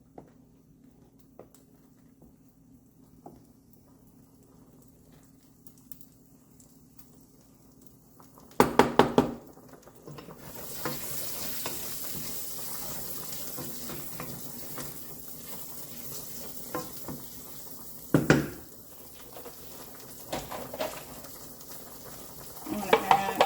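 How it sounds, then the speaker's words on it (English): Saffron pipe rigate pasta stirred in a buttered pan, with quiet low rumble at first, then a few sharp scraping clatters and a steady soft sizzle building up, more scrapes scattered through. "Give our pasta a stir."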